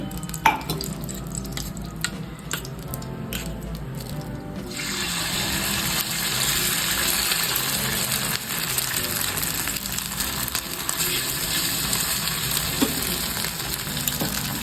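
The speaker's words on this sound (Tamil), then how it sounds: "ரெண்டு ஆம்லேட்டாக போட்டுருவோம் இதில் கொஞ்சம் தோசைக்கல்லில் கொஞ்சம் எண்ணெய் ஊற்றி" Oil on a dosa griddle gives sparse ticks and taps, then a crab omelette mixture hits the pan and a loud, steady sizzle takes over, holding a continuous close hiss to the end.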